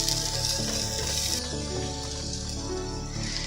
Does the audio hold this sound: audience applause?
no